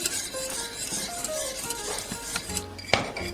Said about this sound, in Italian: continuiamo a mescolare fino a quando si sarà raddensata